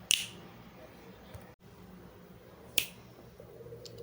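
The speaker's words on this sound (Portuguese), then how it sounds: "vou estalar os dedos" Two sharp finger snaps, one at the very start and another a few seconds later, dry and close with quiet room tone between them.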